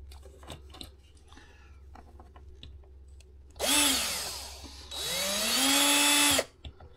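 A power drill bores a small hole in a car tail light, two loud close bursts of whirring with the motor pitch rising then steadying, the second burst longer, after some quiet handling clicks.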